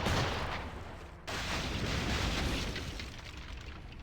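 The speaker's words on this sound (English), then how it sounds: "Let's dump a fire barrel." A fire barrel explodes during a naval battle in Assassin's Creed Rogue, a loud sustained roar of blasts and booms with a brief gap, then another continuous rumbling wave of explosions.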